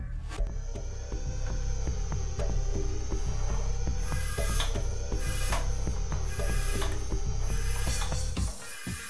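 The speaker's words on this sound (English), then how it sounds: "let's attach a foot pump to the valve and pressurise the bottle" A foot pump pushes air through a valve into a plastic bottle, giving a rhythmic series of regular puffs and hisses, about two per second, steady and close, ending with a brief louder release.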